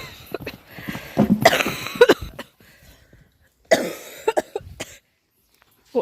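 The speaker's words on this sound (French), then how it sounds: "du coup j'étais en train de tousser" A person coughs in several harsh bursts, clustered in two bouts with pauses between, close and fairly loud with no talking.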